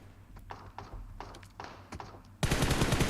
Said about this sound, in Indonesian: Wah ada tembak tu.